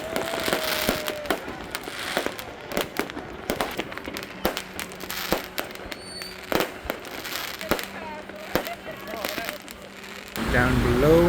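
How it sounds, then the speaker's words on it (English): New Year's Eve fireworks in a park in Miraflores, Peru, with many sharp bangs and crackles bursting irregularly throughout, some near and loud, others farther off, over crowd murmur and occasional voices. "And there's some fireworks going on. It's New Year's Eve."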